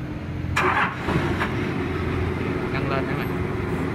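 A Toyota 4-ton forklift engine cranks and catches, then settles into a steady low idle nearby while someone talks over it.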